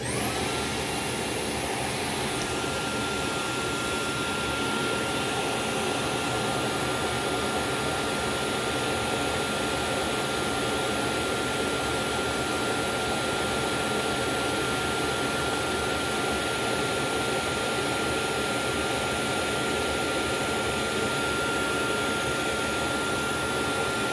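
A Dyson DC22 vacuum cleaner runs steadily at full power during an airflow test with a measuring attachment fitted, a loud, unbroken roaring whoosh that holds constant throughout.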